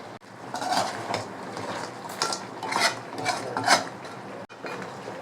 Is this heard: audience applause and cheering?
no